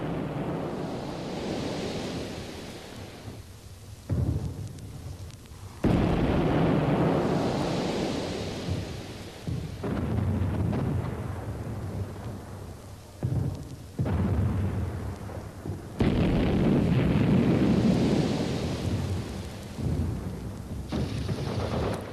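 Mines detonating all at once in a wartime assault, heard as deep rolling booms that swell and fade in repeated long waves, loud and rumbling like distant thunder, with no voices.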